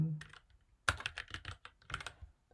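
Rapid, irregular clicking of a computer keyboard as data is typed into an inventory management spreadsheet template, with close, dry keystrokes in uneven bursts after a brief low hum.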